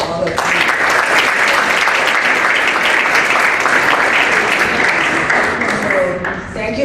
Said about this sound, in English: let's applaud all of you